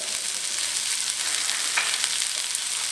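Broccoli, cauliflower and vegetables stir-fry in a hot pan, a dense, steady hiss of sizzling oil close by with faint scraping of stirring, no voices.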